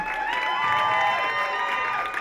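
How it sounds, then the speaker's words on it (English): Audience applause and cheering for Joan at a speech event honoring her 25 years leading an organization, a short burst of crowd clapping with whoops and shouts, fairly loud and dense. "another round of applause for Joan"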